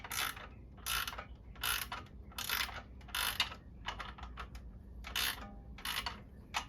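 Ratchet wrench clicking in repeated bursts while tightening the exhaust bolts on a 2022 CFmoto 650 Adventura motorcycle during a custom exhaust install; about nine short, close, fairly loud ratcheting runs with brief pauses between them, no talking.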